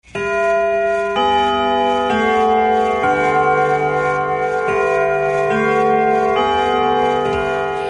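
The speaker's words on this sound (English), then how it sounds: "that's the bell, signifying it's time to wrap up the show" A loud chime rings out in a series of sustained, resonant bell tones, each new strike layering over the fading ring of the last.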